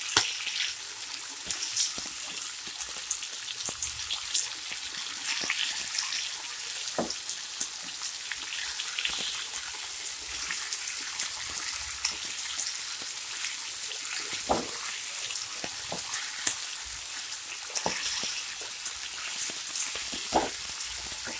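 Lemon pepper chicken frying in a pan on high flame, a steady dense sizzle and crackle over about twenty seconds with occasional sharp pops and faint utensil clicks, no talk.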